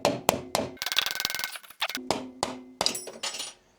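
A hammer tapping out a stubborn gear cable clip on a Ford Ka gearbox, giving a series of sharp metallic taps and knocks in uneven bursts, close and loud, with some ringing between strikes.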